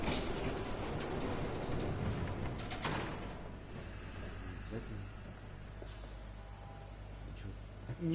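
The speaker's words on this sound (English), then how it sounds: "There's a train coming." A train rumbles past in a video game, a steady rolling clatter of rail wheels that fades gradually, with a voice speaking faintly over it.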